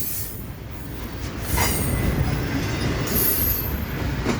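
A train with a smoking engine rolls past Roberts Road in Arrington, Tennessee, a steady loud rumble of wheels and cars with faint squealing, swelling slightly midway and continuing without voices.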